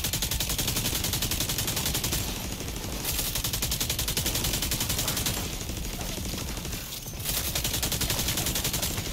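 Sustained automatic gunfire from the shooter game Tom Clancy's The Division 2, rapid continuous bursts of rifle and machine-gun fire at a shooting range, loud and dense throughout with brief lulls, no talk.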